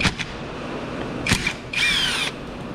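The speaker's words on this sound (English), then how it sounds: "I should just be able to get my little baby impact on it." Small cordless impact wrench working a bolt during AC compressor removal on a Honda CR-V, heard as brief rattling bursts followed by a longer whirring hammering run, close and fairly loud.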